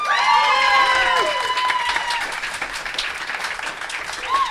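A lively theatre crowd at a circus cabaret show bursts into loud cheering and whooping over steady, dense applause, the shouts strongest at first and the clapping continuing throughout.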